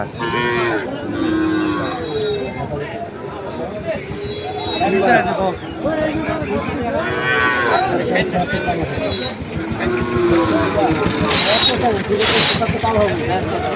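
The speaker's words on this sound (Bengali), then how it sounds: "আপনারা দেখছেন এখানে যে সাইওয়াল জাতের বাছর গরুগুলো প্রায় বিক্রয় করা হচ্ছে" Sahiwal calves moo at a crowded cattle market during hot weather, their low calls rising repeatedly amid a steady babble of voices and trading chatter nearby.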